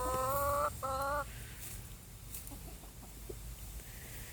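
A rooster's loud harmonic crow twice in quick succession, followed by quieter scattered clucks and farmyard noise.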